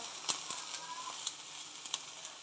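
Peanuts frying in a pan for a spiced ivy gourd curry, giving a steady soft sizzle with faint scattered pops and light clicks, no voices.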